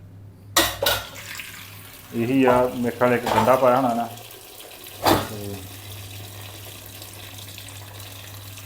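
Water poured into a pot holding raw mangoes and tamarind for a Punjabi mango-tamarind dish, a short splashing pour heard close, with someone talking briefly over a low steady hum.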